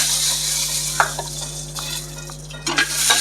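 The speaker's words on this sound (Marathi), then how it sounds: "शेंगदाणे पण झाले भाजून" Peanuts roast in ghee in a pan, producing a soft steady sizzle over a constant low hum, broken by a few scraping stirs and metal clinks from a spoon against the vessel.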